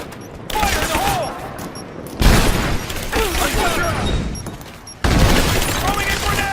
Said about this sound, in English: Throwing a grenade! Get clear!